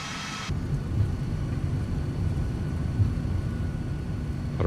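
A TFDI MD-11 airliner in Microsoft Flight Simulator 2024 roars as its thrust reversers deploy on touchdown at San Antonio, a steady, loud, low rumble that swells after a brief opening hiss and holds without letup.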